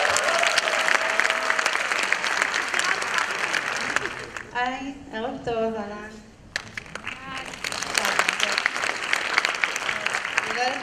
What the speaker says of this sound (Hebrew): תנו לה הרבה מחיאות כפיים.